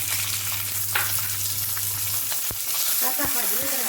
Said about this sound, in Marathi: हे शेंगदाणे आता लाल व्हायला लागलेत, आपले भाजत आलेले आहेत